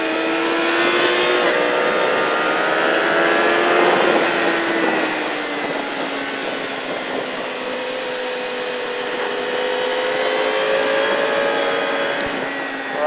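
A motorcycle engine drones steadily on the Pau Arnos race track, a loud, sustained tone that shifts slightly in pitch as the bike holds and then eases its revs.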